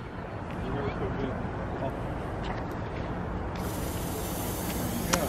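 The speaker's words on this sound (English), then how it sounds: "I see the fog maker down there now." A fog machine at a Chinese lantern festival in North Carolina hisses steadily, releasing fog over cold water at night; the continuous spray-like rush runs without a break and grows slightly brighter near the end.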